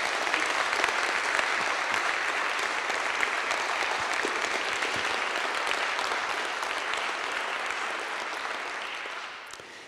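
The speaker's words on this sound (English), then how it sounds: "I think we can applaud him" An audience at a symposium gives sustained applause, dense close clapping that holds steady for several seconds before slowly thinning out toward the end.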